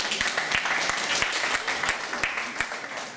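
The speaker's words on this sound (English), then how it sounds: "And a nice round of applause for our spokesperson." An after-prom hypnotist show audience gives a steady round of applause, dense clapping throughout with a few sharper nearby claps, heard fairly close and alone.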